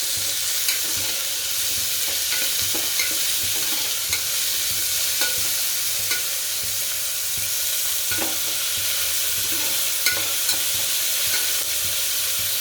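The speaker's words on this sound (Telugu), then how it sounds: "ఉల్లిపాయలు అనేవి బాగా వేగాలి" Onions fry in a pan for vegetable khichdi, giving a loud, even sizzling hiss close by, with faint stirring ticks at irregular moments and no voices.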